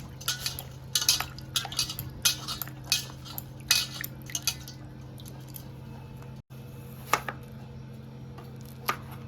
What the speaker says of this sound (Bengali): টমেটোটা কেটে নিচ্ছি আমি